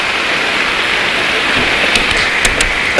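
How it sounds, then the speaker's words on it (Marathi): Heavy rain blows toward the camera at an outdoor match between village teams, a dense, steady hiss of downpour with a few sharper splashes near the end and no voices. "पाऊस अगदी कॅमेराच्या दिशेने वाहतोय."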